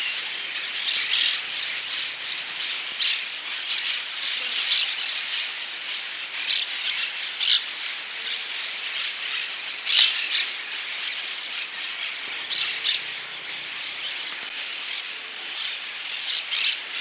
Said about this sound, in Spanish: También nidifica aquí el jilguero dorado.